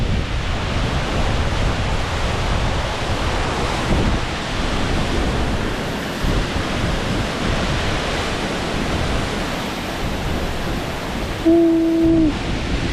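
Ozone Falls, a waterfall in Tennessee, gives off a steady, dense rushing roar that fills the whole stretch, with a brief tonal sound near the end.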